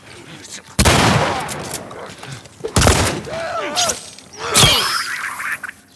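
Gunshots aimed at infected in The Last of Us: three loud, sharp blasts spaced about two seconds apart, each trailing into clattering debris and rustle, with a voice speaking between them.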